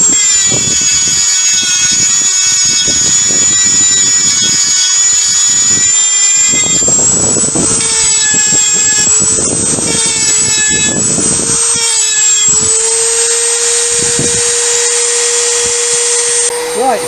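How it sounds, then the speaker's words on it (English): A grinding wheel cuts down protruding spokes on a bicycle rim, giving a loud, continuous high whine that holds steady and shifts slightly in pitch. Bursts of gritty scraping run through it, with no talk. "grind off any protruding spokes on the rim"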